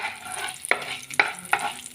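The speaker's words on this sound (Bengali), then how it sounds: "ফোড়নটাকে আমি ভালো করে ভেজে নিলাম" Whole spices (bay leaf, cloves, cardamom, cinnamon, peppercorns) frying in hot oil, a soft continuous sizzle broken by four sharp spoon scrapes and clinks against the pan.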